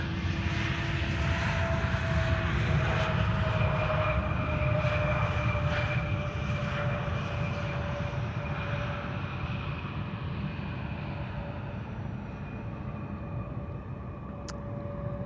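An airliner landing at Amsterdam Schiphol sends out a loud, sustained jet roar with steady whining engine tones that ease lower and fade slightly as it passes.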